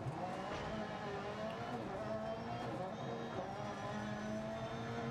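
A rally car races in the Dirt 2 video game, its engine holding a steady, loud drone with slight shifts in pitch throughout, close and unbroken.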